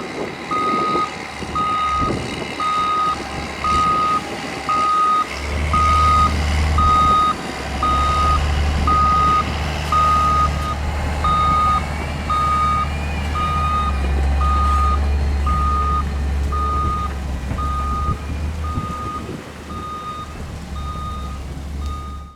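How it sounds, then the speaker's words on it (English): A front loader in a rail yard on the Kingsbury Branch reverses, its backup alarm beeping at a steady, even rhythm over a deep diesel engine rumble throughout. "the front loader went back into the yard and picked up more."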